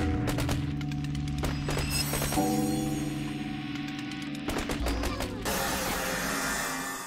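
Rapid bursts of video-game gunfire from a gun in Nowhere Mi ring out in quick volleys over a steady hum of background music, with a sharp cluster near the start and another near the end.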